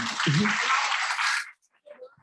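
Brief audience applause at an education community forum, a dense burst of clapping over about one and a half seconds that stops abruptly, with a voice speaking at the start and again briefly after it ends.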